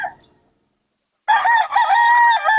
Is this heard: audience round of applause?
no